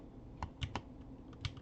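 Keystrokes on a computer keyboard while entering text, a handful of separate clicks spaced irregularly over a quiet background, close and fairly faint.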